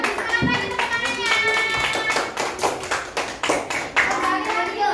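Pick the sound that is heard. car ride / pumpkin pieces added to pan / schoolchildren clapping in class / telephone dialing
schoolchildren clapping in class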